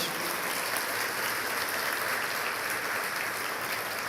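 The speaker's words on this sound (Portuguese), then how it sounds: "aplauda a Deus por essa passagem, gente" A church congregation applauds, a dense steady wash of many hands clapping together, loud and continuous throughout.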